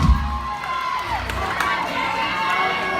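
A concert crowd at a tour show in Fort Lauderdale cheers and screams steadily, with high-pitched shouts layered over a dense wash of noise.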